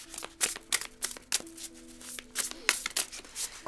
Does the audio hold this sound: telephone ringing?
no